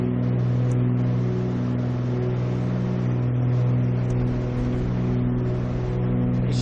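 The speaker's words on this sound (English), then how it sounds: "we'll put the mixture back in again now, and we'll start the right engine again" A steady, droning twin-engine drone from the right engine of a Cessna 310R in Microsoft Flight Simulator, holding an even hum with low tonal bands throughout and no voices.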